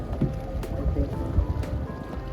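A boat on Lake Neusiedl in Austria makes a low rumbling engine and water-slap noise, close and steady with light splashing over the short stretch.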